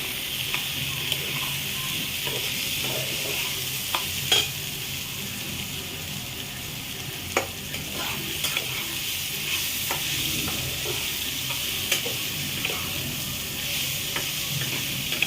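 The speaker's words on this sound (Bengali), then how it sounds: "এই সবজিগুলো একটু ভাজা ভাজা হোক," Mixed vegetables with green chillies for a pumpkin-greens chachchari fry in a pan with a constant sizzle, broken by sharp clicks and scrapes of a spatula stirring at intervals, without talk.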